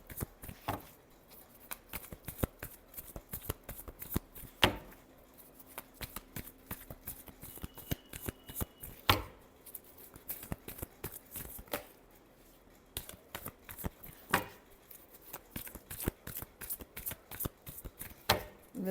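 Tarot cards shuffled by hand in a steady run of crisp riffles and flicks, fairly close, with sharp card slaps standing out every few seconds and no talking.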